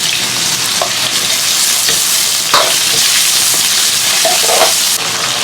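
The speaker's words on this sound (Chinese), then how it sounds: "锅中多加点油，姜蒜爆香，来一勺豆瓣酱" Ginger and garlic sizzle and crackle in plenty of hot oil in a wok with a spoonful of chili bean paste, a loud, steady frying hiss broken by a few stirring scrapes.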